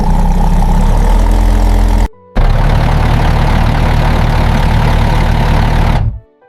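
A Leopard 2 tank's MTU diesel engine runs loud and close, a heavy low rumble that cuts out briefly, then resumes with a rougher, stronger roar before stopping abruptly.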